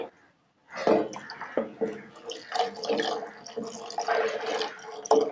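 Thick kheer pours and splashes wetly into a hollowed phuti kakudi cucumber dish, a close, continuous liquid gush with small plops and drips after a short silent start.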